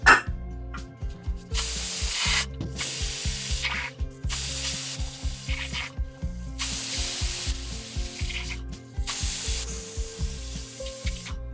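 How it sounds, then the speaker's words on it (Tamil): A pressure cooker weighted down on the stove, cooking dal with vegetables, hisses in repeated loud bursts of venting steam separated by short gaps, with a steady rattling jiggle of the weight underneath. "இப்போ இந்த குக்கரை நம்ம மூடி வச்சுட்டு ஒரு 4 to 5 விசில் விட்டு நம்ம இறக்கி வைக்கலாம்."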